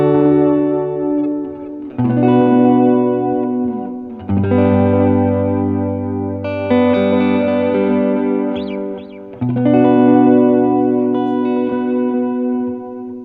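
Guitar chords played through a Fender Vaporizer amp with crunchy distortion ring out in sustained, strummed phrases with chorus-like shimmer, loud and close, several chord changes and no talk.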